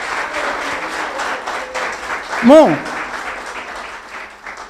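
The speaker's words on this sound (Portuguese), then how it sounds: "E Jesus merece uma forte salva de palmas" During a church sermon, a congregation claps in a moderate, steady patter while a voice briefly speaks over it midway.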